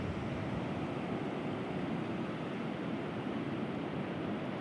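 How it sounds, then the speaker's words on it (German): Ocean surf at Cape Scott on Vancouver Island roars as a constant, dense rush of breaking waves, steady and fairly distant with no voices over it. "Guckt euch die Wellen an."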